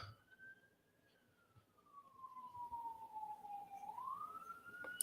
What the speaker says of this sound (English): I hope you guys can't hear those police sirens in the background.